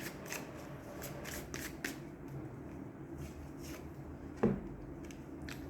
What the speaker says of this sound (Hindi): चलिए एक और कार्ड लेते हैं